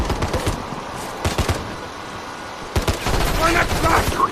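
Rapid gunfire bursts from the video game Warzone, several sharp volleys cracking out in quick clusters with brief gaps, loud and close over a busy game soundscape.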